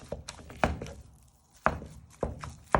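Beef mince being patted and broken apart in a hot pan, heard as a string of dull, close thuds and taps at an uneven rhythm with light sizzle underneath.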